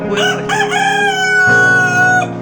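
A rooster crows loudly and close by in a small cage, one long drawn-out cock-a-doodle-doo rising and holding before trailing off.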